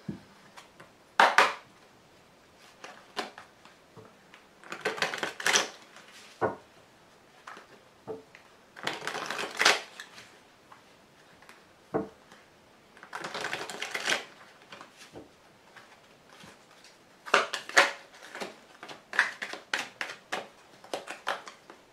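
Tarot cards are shuffled and laid out on a table in sharp, irregular clusters of snapping, riffling and tapping. Quiet gaps separate the bursts, which are close and fairly crisp.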